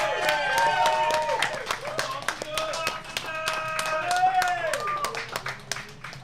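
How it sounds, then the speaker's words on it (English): Scattered clapping from a small group at a Donkey Kong competition final, brief and uneven, with lively voices and chatter running over it. "Round of applause, please, guys"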